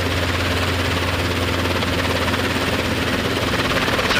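A Robinson R22 training helicopter flies with a loud, steady, close engine drone and rotor throb, continuous and unchanging throughout.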